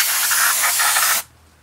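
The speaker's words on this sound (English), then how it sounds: "Spray it really good, and you might want to spray some in your powder valves." Brake cleaner sprays in one steady, loud aerosol hiss into a motorcycle cylinder from a 1993 Suzuki RM 125 rebuild, then cuts off abruptly at the end.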